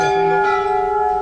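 Temple bells ringing at the Golu Devta shrine in Uttarakhand, a loud, steady metallic ring with sustained overlapping tones and no pause, close by.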